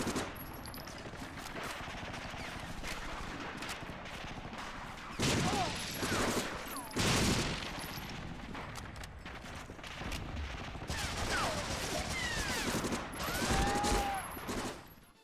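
Gunfire from Medal of Honor Frontline, a World War II first-person shooter, with rifles and machine guns crackling in dense, overlapping bursts and several louder volleys standing out over a steady battle din.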